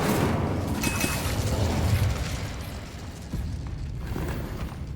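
Incendio fire spell cast in Hogwarts Legacy: a whooshing burst of flame with rumbling crackle, loud and near, easing off and then flaring again.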